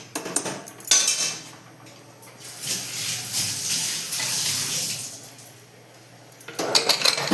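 Metal utensils clatter and scrape against a pot of mutton curry during stirring, then a lid clanks into place, close and intermittent with quieter stretches between, no voices.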